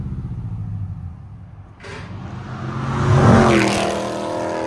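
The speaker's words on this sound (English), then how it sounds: "You got a Charger just going by, going crazy like usual." A Dodge Charger drives past loudly, its engine noise swelling to a roaring peak and then easing off as it moves away. No one speaks.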